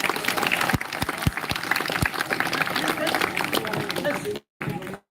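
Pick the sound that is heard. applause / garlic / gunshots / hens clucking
applause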